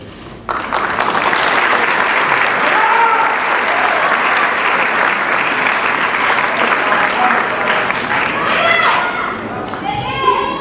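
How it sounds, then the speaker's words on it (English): Crowd at an international school graduation ceremony applauding, loud sustained clapping from a large audience after a brief quiet start, continuing evenly with some voices and cheers near the end. "express your appreciation with applause"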